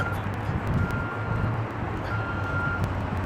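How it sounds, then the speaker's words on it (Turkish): Cars passing along a city street in Almaty, Kazakhstan, producing a steady roar of traffic with a faint repeating beep over the engine rumble. "Arabalar geçiyor."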